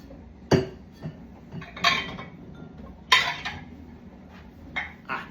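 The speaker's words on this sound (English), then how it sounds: "Silverware. That must go in here." Forks, spoons and dishes clatter and clink in several sharp separate bursts as a dishwasher is unloaded in a kitchen, close by with quiet pauses between handfuls.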